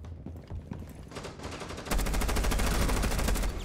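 Rapid automatic gunfire in Rainbow Six Siege, starting as scattered shots and swelling into a loud continuous burst for the second half, up close with no talking.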